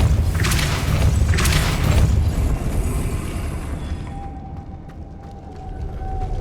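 A Depulso repelling spell cast in Hogwarts Legacy lands as a loud, deep booming thud, a couple of heavy bursts early on that fade into a low rumbling hum.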